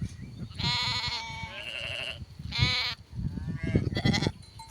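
Sheep and lambs on a traditional sheep farm bleat in several loud, close, wavering calls separated by short pauses, with quieter farm noise beneath.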